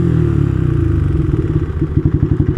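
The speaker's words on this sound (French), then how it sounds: "Cette moto, c'est une AK-47, elle pétarade mais comme n'importe quoi." A Yamaha R125 motorcycle engine crackles and pops in rapid irregular bursts at close range, loud rumbling thuds over a running idle that grow more pronounced toward the end, with no talking.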